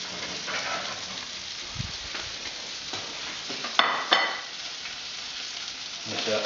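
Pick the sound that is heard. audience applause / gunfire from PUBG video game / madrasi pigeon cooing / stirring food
stirring food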